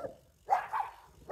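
Unfriendly dogs on a mountain road in Peru barking in the morning, one short loud burst of barks after a quiet moment, with another starting at the very end.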